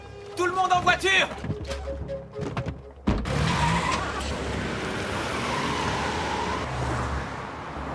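A group of cars starts up and drives off with a sudden loud surge of engine roar and tyre noise that holds steady, following a few seconds of shouting and music.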